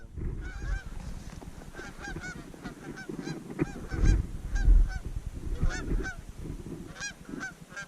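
A flock of geese honks continuously and overlapping above a winter wheat field in Minnesota during a hunt, the calls loud and near, with low rumbles of wind and movement underneath.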